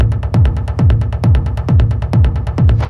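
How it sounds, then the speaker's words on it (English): Hard techno low end: a driving, aggressive kick drum pounding steadily about twice per second, each hit falling into a booming bass, loud and alone. "we have a driving but aggressive kick and bass,"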